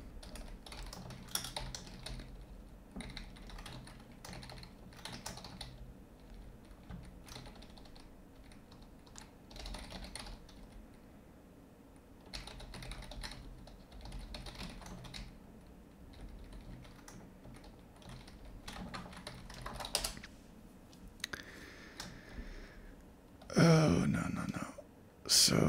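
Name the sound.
typing on a computer keyboard while coding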